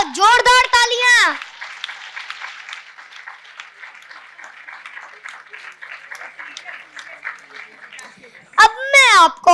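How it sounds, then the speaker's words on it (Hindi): An audience claps during a devotional Krishna discourse, a soft, sustained patter of applause lasting several seconds between stretches of close, loud speech at the start and end. "थोड़ी तालियां तो बजाओ, जोरदार तालियां।"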